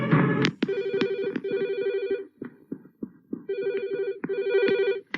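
A telephone bell rings in repeated bursts, loud and close, with short pauses between rings in a home setting; no one speaks.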